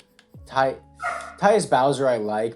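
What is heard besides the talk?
dogs barking in the background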